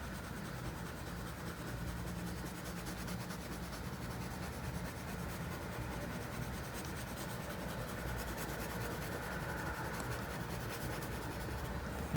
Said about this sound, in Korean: 여기와 여기 중간 톤으로 칠해 주세요